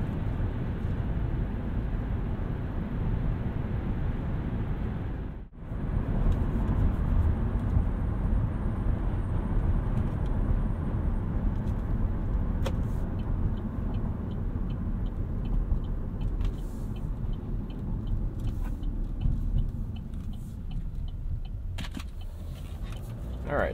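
Interior of a 2015 Chevrolet Cruze diesel car on the highway, a steady low road and engine rumble with wind noise and a brief dip partway through, no speech.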